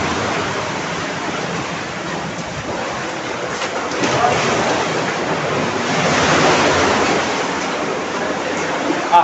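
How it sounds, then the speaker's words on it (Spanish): Ocean waves crash at Choroní beach in a constant loud roar of surf, swelling as a larger breaker rolls in midway, with wind buffeting the microphone. "el oleaje te agarra, así que hay que entrar aquí con mucho cuidado"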